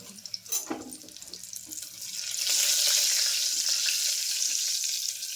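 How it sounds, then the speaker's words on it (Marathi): Cumin seeds and cashews are fried in oil for masala rice. A few clinks of stirring come first, then a loud, steady, close hiss builds and holds. "आम्ही आता घालणार आहे जिरं आणि काजू जरा लालसर वापरून फ्राय करून"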